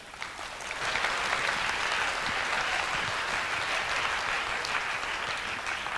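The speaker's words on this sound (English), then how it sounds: "Please give us a big round of applause." Applause fills the hall at a university summer campus graduation ceremony. Clapping swells within the first second, then holds as a dense, even roar from a large crowd.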